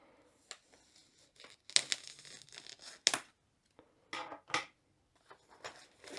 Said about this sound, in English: So take the cellophane off.